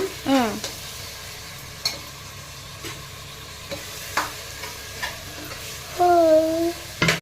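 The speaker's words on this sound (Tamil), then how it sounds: "போட்டுட்டு நல்லா வதங்கணும் தக்காளி" Tomatoes sautéing in a pan, a soft low sizzle broken by sporadic scraping stirs and clinks, with brief whistle-like tones near the start and end.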